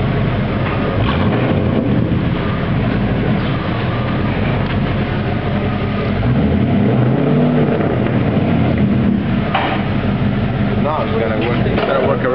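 A Buick Roadmaster Wagon's LT1 V8 with the muffler deleted rumbles loudly and steadily up close, with a deep low drone and a brief rev swell partway through, while people talk over it.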